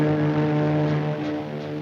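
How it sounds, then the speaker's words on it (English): A heavy, droning hum works as a film sound effect for dark wings overhead in a 1948 musical fantasy. A loud, steady, low tonal drone holds for the whole clip and fades a little toward the end. "The heavy drone of dark wings drowns out the lighter tunes of gaiety"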